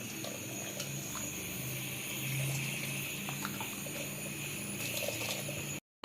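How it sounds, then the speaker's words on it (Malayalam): Hot rasam cooked with garlic is ladled into a strainer set over a vessel, giving a steady, soft splashing trickle heard close by. The pour cuts off abruptly just before the end, with no talk. "ഒരു പാത്രത്തിൽ അരിപ്പ് വെച്ചിട്ട് ഇതുപോലെ കോരി ഒഴിച്ച് അരിച്ചെടുക്കണം"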